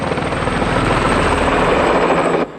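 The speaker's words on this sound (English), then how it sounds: "he's got in pursuit 2 other police choppers that are trying to shoot him down" Police helicopters in pursuit from the film Blue Thunder, a loud, steady, close rotor roar with a rapid chopping beat that fills the whole stretch and cuts off near the end, with no voices.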